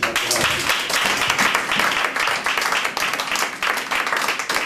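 A church congregation breaks into steady, dense applause during a French and Norwegian worship service, with the clapping loud and continuous throughout and a few voices faintly mixed in.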